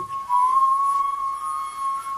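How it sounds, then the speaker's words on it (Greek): A person whistles a sustained, steady melody note, clear and fairly loud, holding nearly the same pitch throughout with slight wavering and no talking. "Τις ενδιάμεσες νότες θα τις κάνετε με το σφύριγμα."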